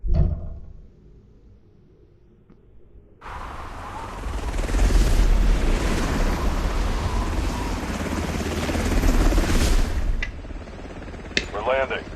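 A helicopter touches down in a video game, its loud broadband rotor and engine roar swelling up after a quieter start and holding steady for several seconds, then cutting off into brief clicks and faint game tones.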